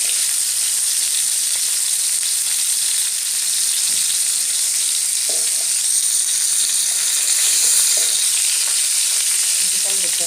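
Stuffed pointed gourds sizzle in hot oil in a continuous, loud, even fry, with a few soft scrapes and taps as the pieces are carefully turned over in the pan.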